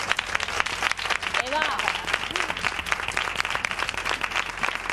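Applause at a casting for models over 45 for a flamenco fashion show, a dense clatter of clapping under a speaking voice, fairly close and steady throughout.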